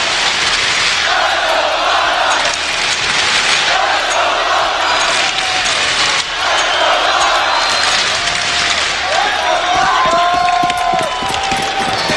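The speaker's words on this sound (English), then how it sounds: "Listen to this crowd!" A packed arena crowd at the CS:GO Boston 2018 major, FaZe Clan versus Cloud9, roaring and cheering loudly and continuously, with swelling chants and shouts throughout.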